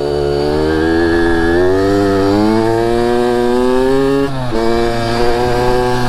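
A Kawasaki KX85 two-stroke dirt bike revs hard and accelerates, its buzzy engine note climbing steadily in pitch, dipping briefly as it shifts, then rising again, loud and close throughout.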